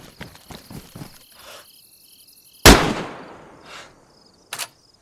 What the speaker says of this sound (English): I'm going to try and shoot across to see if I can get him